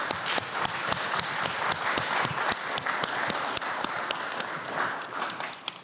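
Audience at the Transform Westside Summit applauding Westside Future Fund staff and board members, a moderate crowd clapping steadily for several seconds with distinct sharp individual claps standing out in a regular rhythm, fading slightly toward the end.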